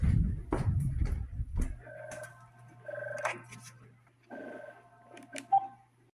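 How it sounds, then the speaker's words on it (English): An ADT Impassa alarm system's telephone rings with short electronic tone bursts repeating a couple of times over a faint steady hum, after some brief rustling. "Phone's ringing."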